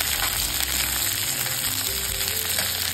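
Capsicum and green chillies stir-fry in a pan with a loud, continuous hiss, joined by a steady droning hum and faint shuffling of the vegetables.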